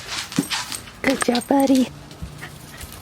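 Puppy whimpering in short, high, nasal whines, several brief cries clustered together close by, mixed with a person speaking softly to it.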